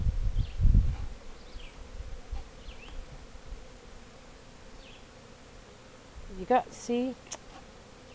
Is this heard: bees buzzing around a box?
yes